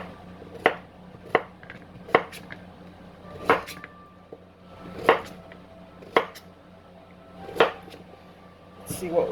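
A knife chopping zucchini on a cutting board: about a dozen sharp, distinct knocks at a steady, unhurried pace, close and clear against a quiet room.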